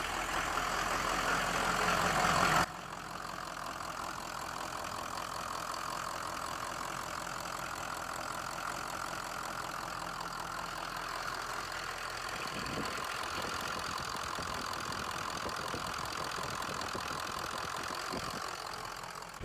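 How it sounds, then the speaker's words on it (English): A pickup truck engine idles steadily and continuously at close range while warming to operating temperature, a low rumbling drone with a brief louder burst at the very start. "I have my truck right now idling to get to engine temp"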